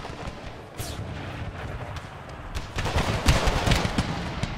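Massed musket and cannon fire in an American Civil War strategy game, heard as a continuous rumble of distant volleys that grows into louder, crackling bursts near the end, with no talk.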